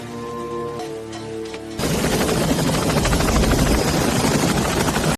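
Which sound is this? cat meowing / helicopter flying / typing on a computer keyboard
helicopter flying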